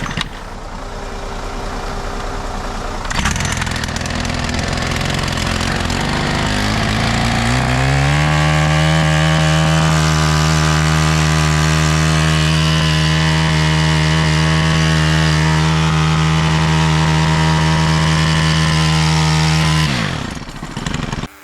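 A pole saw's small two-stroke engine sputters, then catches and settles into a loud, steady buzzing run before cutting off at the end.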